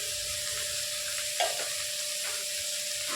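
Onion softening in a pan for a spicy mustard-poppy-seed small fish curry, giving a steady close sizzle with a brief stir or clatter partway through, and no voices.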